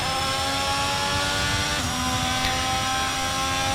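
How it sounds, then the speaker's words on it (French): A Ferrari Formula 1 engine in the racing game F1 22 holds a loud, steady, high-revving whine with a brief pitch dip partway through, heard alone. "Donc le moteur Ferrari assez bien réalisé"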